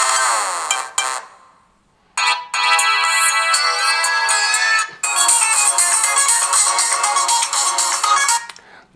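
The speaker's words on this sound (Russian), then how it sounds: "А что же у нас с рингтонами?" Ringtone melody played loud through the speaker of a Ulefone S1 budget smartphone, bright chiming tones running in bursts with short gaps between phrases, close and clear with no talk over it.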